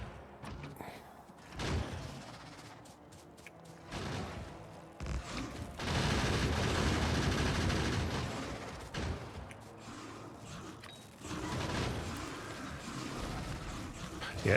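Gun turrets firing on attacking enemies at a large base in the game Factorio, with dense, sustained bursts of rapid gunfire rising and falling in waves at moderate distance.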